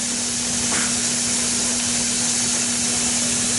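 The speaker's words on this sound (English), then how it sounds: "Got a good head of steam going now." Steady hiss of steam venting from a pressure canner brought up to pressure with the weighted jiggler on top, a constant loud broadband rush with a steady hum underneath.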